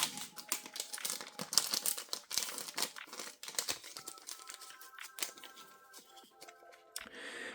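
Scissors snip and slice open One Piece card booster packs, giving a close, busy run of crisp crinkling foil and rapid clicky cuts with nobody speaking.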